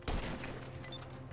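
A heavy sniper rifle fires in GTA V with one sharp, loud report that rolls into a short echoing tail. No voices are heard.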